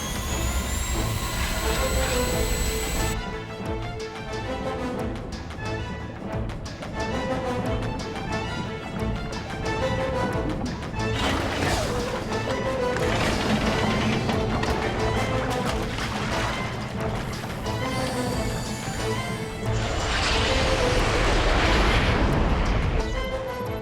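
A jet aircraft takes off in a disaster-film scene, a loud, continuous roar that rises and thickens across the span under dense music-like layers, swelling strongest toward the end.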